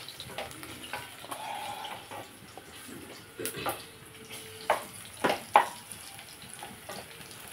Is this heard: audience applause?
no